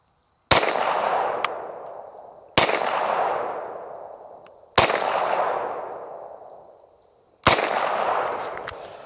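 Four sharp 9mm shots from a Stribog SP9A1 carbine at a steel plate on an outdoor range, spaced about two seconds apart, each loud crack followed by a long echoing decay, with no talk.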